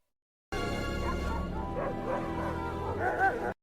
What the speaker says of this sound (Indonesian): Anjing lain yang mendengar gonggongan Book, mereka pun mengikuti Book.